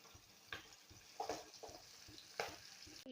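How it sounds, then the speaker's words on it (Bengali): Boal fish sizzles faintly in hot oil in a wok, with a soft continuous fry and a few sharper spatters and stirring clinks scattered through the short stretch. "এখানে কড়াই বসে এক এক করে সব ভাজি নেব বোয়াল মাছ"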